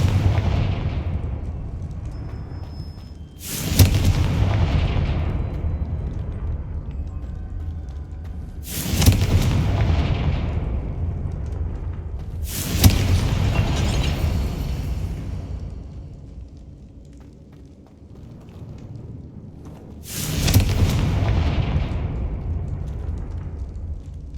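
Confringo spell blasts in the video game Hogwarts Legacy: four heavy booming explosions spaced several seconds apart, each followed by a long rumbling decay, loud and close with no voices.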